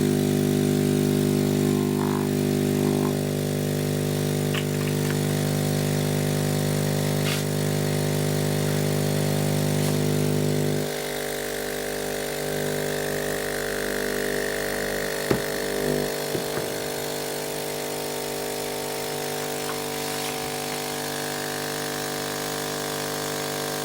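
A laser engraver's air assist pump hums steadily with its output run through a length of garden hose, a constant droning buzz that drops noticeably quieter partway through, with a few faint knocks and clicks.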